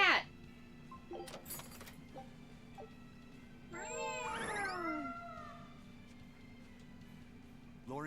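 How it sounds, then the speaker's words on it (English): A cat meows in the video game Tales of Berseria, a drawn-out, wavering caterwaul in the middle of the clip over steady game background tone, with short clicks and brief game sounds before it. "Cat!"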